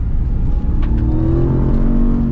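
A Ram TRX pickup truck, custom-built, powers through a sweeping track corner with a steady, loud engine roar held close throughout.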